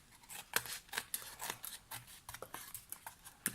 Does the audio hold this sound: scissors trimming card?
yes